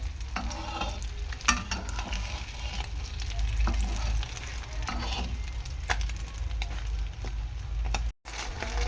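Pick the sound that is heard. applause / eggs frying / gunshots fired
eggs frying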